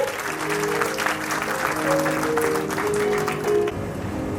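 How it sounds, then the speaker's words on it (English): Audience applause at a school's annual prize distribution ceremony, a steady, moderately loud patter of many hands in a hall, with a sustained musical tone underneath before it tapers off. "A big round of applause for her."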